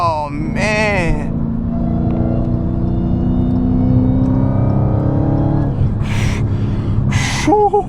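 Widebody Dodge Hellcat driven through New York City streets, its supercharger whine and engine drone rising steadily and holding loud and close throughout, with brief gasps and breaths near the start and end.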